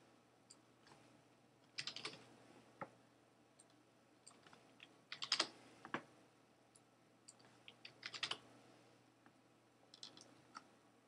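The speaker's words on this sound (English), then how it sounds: "However, with the keyboard, you can do it much faster." Excel Alt keyboard shortcuts are tapped on a computer keyboard as short bursts of quiet, crisp key clicks in irregular clusters with pauses between, close and faint, no talking.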